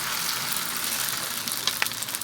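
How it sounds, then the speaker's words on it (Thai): Wide rice noodles stir-fried over high heat in a hot wok give a steady, close sizzle with a few sharp clicks of stirring near the end, no voices. "ใส่เส้นลงไปเลยค่ะ ผัดไฟแรงนะคะ"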